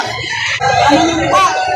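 Roosters crow loudly at a busy chicken market in Lipa, Batangas, with several overlapping calls and some background voices in the crowd.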